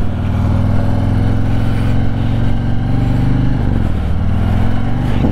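A Harley motorcycle engine rumbles loud and close throughout, a steady low-pitched idle-to-rev drone that shifts pitch briefly near the end as the rider heel-toe shifts gears.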